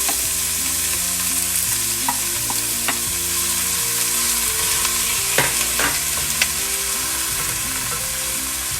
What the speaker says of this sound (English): I'm going to add in my ground beef, a pound of ground beef.